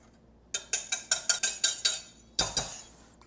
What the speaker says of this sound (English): we're going to mix this all together. Those 3 ingredients. Just whisk it around.